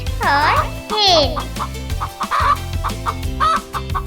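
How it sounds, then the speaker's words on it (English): A hen clucking and squawking loudly and close, with rising, wavering calls followed by a run of shorter clucks, sounding alone without any talk. "Hen lays eggs."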